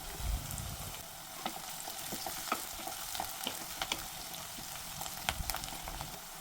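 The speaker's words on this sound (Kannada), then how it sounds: "ಚೆನ್ನಾಗಿ ಫ್ರೈ ಆಗಬೇಕು ಈರುಳ್ಳಿ." Onions frying with curry leaves and green chillies in a pan, a steady soft sizzle with scattered crackles and faint stirring, close and fairly quiet, no talking.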